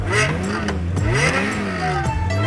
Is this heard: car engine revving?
yes